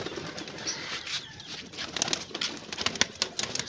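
Pigeons gathering to feed after being let out, their coos and wing flaps mixing with scattered pecking and clicks, fairly close and continuous with sharper bursts toward the end.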